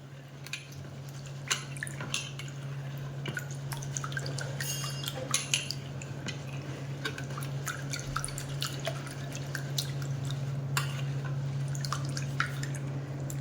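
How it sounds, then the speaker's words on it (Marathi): Moong dal is washed in water: soft squelching, swishing and scattered drips and clinks of grains and vessel, fairly faint and close, over a steady low background hum. "प्रथम आपल्याला ही धुवून काढायची आहे"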